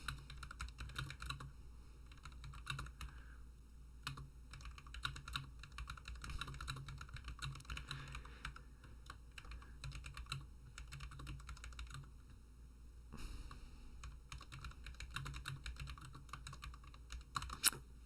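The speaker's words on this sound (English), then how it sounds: "I am going to type some text up here" Steady typing on a computer keyboard while text is entered into a project-management app, with rapid close key clicks running throughout and brief pauses between bursts.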